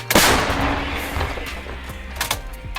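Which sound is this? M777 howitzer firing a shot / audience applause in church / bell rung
M777 howitzer firing a shot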